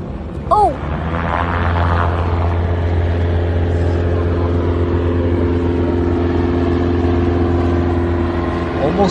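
Small plane engine droning steadily as it attempts a stunt landing on a moving truck in Brazil, with a sustained loud hum throughout and voices over it.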